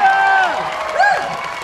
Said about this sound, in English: Wow, and you sound like a great crowd tonight.